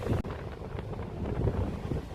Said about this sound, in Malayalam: നല്ല കാറ്റടിക്കുന്നുണ്ട്. കടലിൻ്റെ കാറ്റ്